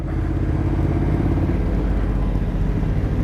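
A motorcycle engine idles close by with a steady low rumble, running continuously without a break.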